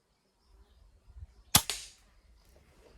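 A single sharp crack from a Hatsan mod. 25 air pistol firing, a close, loud report with a short tail, preceded by faint handling noise.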